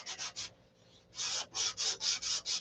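Hand sanding of hangar rash on an airplane's skin, a dry rasping scrape in short back-and-forth strokes with a brief pause before a steady run of five or six close, even passes.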